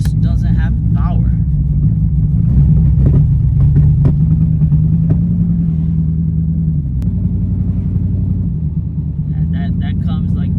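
A Corvette's engine drones in a low, steady, strained rumble as the car labours up a hill, with someone talking over it almost throughout.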